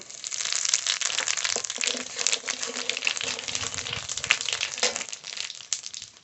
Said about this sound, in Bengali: ফোড়ন করে নেব ফোড়নে তেজপাতা শুকনো লঙ্কা গোটা জিরে